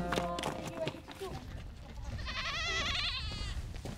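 A goat bleats in wavering cries at a Berber camp with a goat-hair tent, rising after a voice and other speech.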